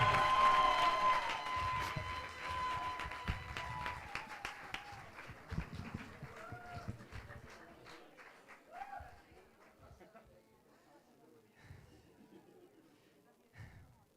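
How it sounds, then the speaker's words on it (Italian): Audience applause at a European poetry slam championship in Rome as the next poet is introduced, loud clapping and some cheering at first that thins out and fades, with a voice speaking over it. "Un applauso per lui!"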